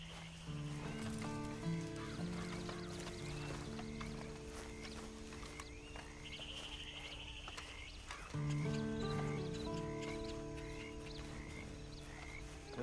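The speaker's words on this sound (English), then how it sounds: "And you better get on this horse." Horse hooves clip-clop at a steady walking pace in the video game Red Dead Redemption 2, set against a layered musical and ambient game backdrop, with no one talking.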